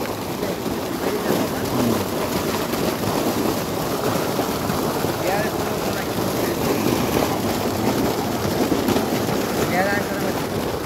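Water gushes continuously from a deep tubewell pump in a rural village, a loud, steady rushing wash that runs without a break, with voices talking faintly underneath.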